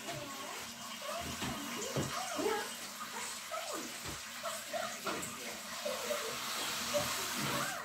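Hot water runs fast into a kitchen sink upcycled from an old Bulgarian pechka, a steady hissing, splashing rush that continues throughout while people talk over it.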